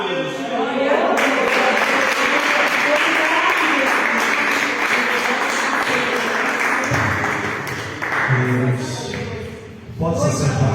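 A church congregation claps in praise to the Lord, sustained dense applause filling the hall for about eight seconds before thinning out, while a voice speaks over it.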